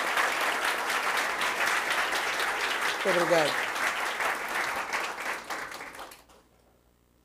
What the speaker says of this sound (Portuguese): oferecendo a ele uma salva de palmas bem entusiasmada